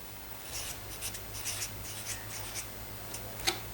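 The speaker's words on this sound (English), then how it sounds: "we can write that down here as well" Pen or pencil scratching measurements onto paper in a series of short strokes, with a faint low hum underneath and a small tap near the end.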